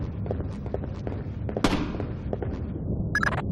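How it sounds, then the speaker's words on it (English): Gunfire in the video game Splinter Cell: Chaos Theory, a scatter of sharp distant cracks and pops at an irregular pace, including one louder burst. "I'm hearing gunfire down there, Fisher."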